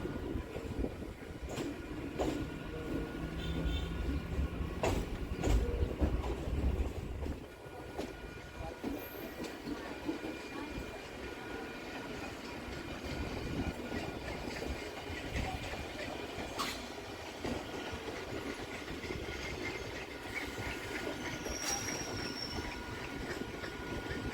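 A Kolkata local train on the Barrackpore to BBD Bag line runs near Dum Dum Junction, a continuous rumble with wheel clatter and occasional squeals, heavier in the first seconds and then steady throughout.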